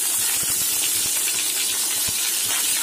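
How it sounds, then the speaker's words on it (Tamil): Onions sizzling steadily in a pan for a tomato curry, a constant close hiss of frying with faint scattered clicks of stirring underneath. "வெங்காயம் நல்லா வதங்கணும்."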